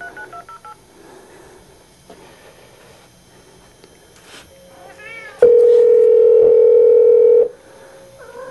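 A telephone is dialed to reach a customer, with a long steady tone and a few short beeps close up, after quiet workshop sounds and a brief cat cry.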